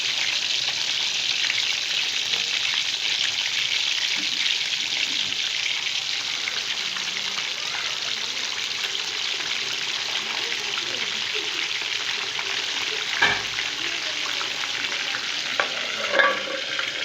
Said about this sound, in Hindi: तेल हमारा गरम हो चुका है। अब इसी में मैं फ़िश डालने वाली हूँ।